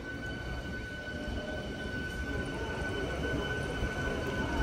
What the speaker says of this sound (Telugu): ఈ సబర్బన్ ట్రైన్ అయితే వెళ్ళిపోతుంది